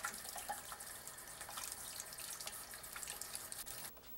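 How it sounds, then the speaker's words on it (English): Cold water runs from a kitchen tap over a peeled egg, making a faint, steady hiss and splash with small shifts as the egg moves under the stream. "run the egg under cold water when you peel it"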